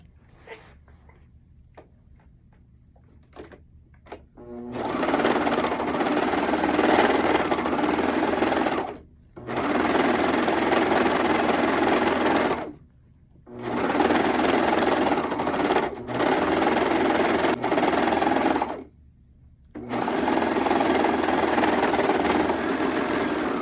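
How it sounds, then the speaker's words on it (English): A serger overlocks the seam of an upcycled cotton sweater, running in four loud steady bursts separated by brief pauses, after a few quiet handling clicks at the start. "Now I'm gonna serge it, and I'll let you see it."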